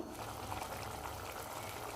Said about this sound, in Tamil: காய் வந்து நல்லா வெந்து வரட்டும்.